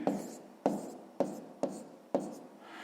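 Five separate handwritten strokes, likely pen or chalk, scratch out numbers while working a long division problem, each a short sharp stroke followed by a brief fading rub, close and evenly spaced.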